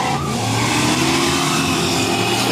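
An old Holden HQ streetcar with around 1,000 horsepower roars hard off the line at a drag strip, a loud sustained engine rising in pitch throughout.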